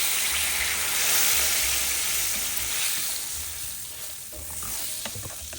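Hot peanut brittle candy sizzles and bubbles as butter and vanilla extract are stirred in, a bright steady frying hiss that gradually softens.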